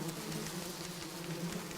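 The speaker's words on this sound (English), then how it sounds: "These aren't bugs. They're wasps." Poisonous wasps buzz as a radio play sound effect in a community theatre staging of The Lone Ranger, a dense, continuous, swarming drone that stays steady and close throughout with no voices.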